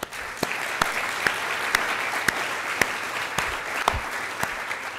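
Steady applause from an audience, dense clapping with a few louder individual claps standing out, continuing evenly throughout.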